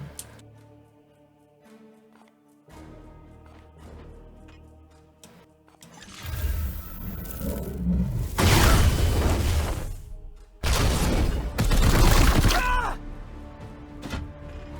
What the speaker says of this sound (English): Nice, the auto fire.